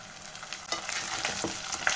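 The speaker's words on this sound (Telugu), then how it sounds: "ఇప్పుడు దీన్ని కూడా మంచిగా ఫ్రై చేసేద్దాం" Small tomato pieces fry in hot oil, a continuous close sizzle with soft stirring movements through it, steady and unbroken, with no voices.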